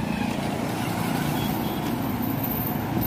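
Steady traffic rumble from a busy main road, trucks, cars and buses passing in a continuous dense wash, fairly loud and close, with no clear gaps and no talk.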